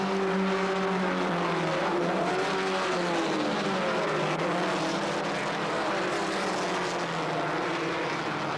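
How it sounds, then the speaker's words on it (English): Holden Gemini race cars at the Surfers Paradise circuit in 1984 roar past in a pack, several engines droning and shifting pitch as they run abreast through corners, loud and sustained with no talk. "the pace of the cars allows them to get abreast even through the corners"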